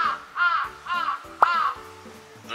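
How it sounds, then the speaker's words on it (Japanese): Crows caw in a string of four harsh, hoarse calls near a mountain campsite with a private sauna, with a sharp click between them and another call beginning at the end. "うるさいぞカラスさん。"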